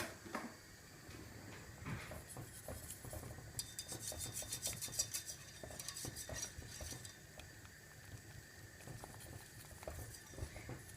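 Zerde, a Turkish saffron rice pudding, is whisked in a metal pot, producing continuous clinking and scraping with a brisk, rapid stretch of metallic rattling partway through. No one speaks.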